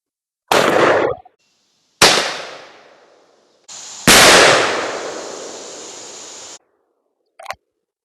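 A Stevens 512 20-gauge shotgun fires Winchester Super X 2.75-inch game loads outdoors at a target, giving three loud sharp blasts with decaying echoes, about two seconds apart, followed by a brief faint click.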